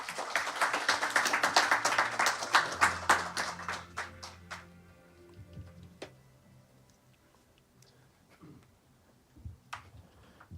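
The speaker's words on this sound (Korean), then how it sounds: "큰 박수 부탁드립니다." Audience clapping at a global forum on democracy, a burst of dense applause that thins out over a few seconds into scattered claps, followed by quiet room ambience with a few faint knocks.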